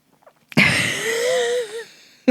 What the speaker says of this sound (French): vous entendez une respiration sifflante, très très lourde.